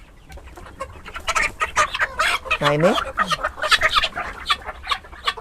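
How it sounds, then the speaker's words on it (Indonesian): A guinea fowl calls from close by in a rural poultry-farming setting, giving a run of harsh, rapid rhythmic cries with one clear tonal squawk, while a person speaks briefly. "ini ayam mutiara bunyinya seperti ini."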